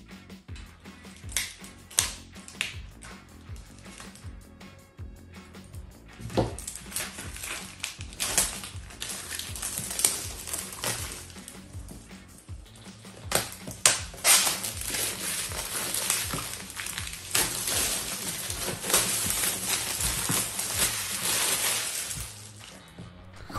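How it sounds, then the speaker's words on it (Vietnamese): Plastic shrink wrap crackles and tears as it is peeled off a Frostpunk board game box, close up, with irregular crinkling bursts that grow busier and louder midway and continue steadily to the end. "Bây giờ thì chúng ta sẽ tiến hành nghi lễ, đó là bóc cái bọc ở ngoài."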